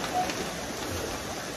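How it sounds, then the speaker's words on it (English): Steady rain falling during a summer road trip past tree-lined roads, a brief, even hiss of rain throughout with no talking. "It's raining all the time."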